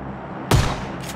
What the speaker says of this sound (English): I want to hear what fucking gunshots are coming from